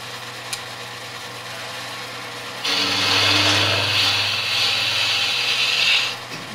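A wood gouge hollows end grain on a spinning lathe, its heel and cutting edge riding the surface. A steady, loud cutting hiss starts partway in and holds for about three seconds before easing off, over a low motor hum.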